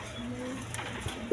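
Pigeons in a pigeon seller's loft coo softly and repeatedly at close range over a low background murmur.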